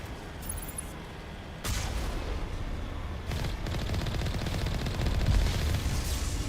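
Enemy gunfire in the Mass Effect Legendary Edition video game, rapid sustained bursts of automatic weapon fire with booming impacts, loud and continuous, intensifying in steps.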